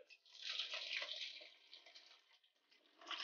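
Hot water poured over peppercorns and ginger, a soft, faint splashing pour that swells then tapers with a brief trickle at the end, close by and alone.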